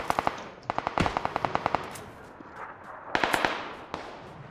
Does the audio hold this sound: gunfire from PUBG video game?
yes